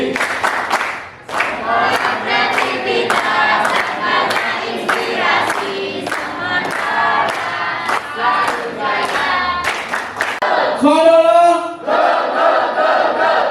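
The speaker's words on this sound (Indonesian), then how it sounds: "Tepuk tangan ya." A large school audience at a high school event claps and shouts together, loud sustained cheering and applause with a rising collective yell near the end, voices blending into a roaring crowd.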